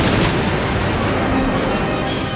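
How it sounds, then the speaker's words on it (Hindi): Heavy gunfire and artillery shelling across the border at the Arnia sector posts, heard as a loud, dense, continuous roar of overlapping booms and bursts with no voices. "रात भर भयानक गोलीबारी चली है, जबरदस्त गोलीबारी चली और इस वक्त भी चल रही है।"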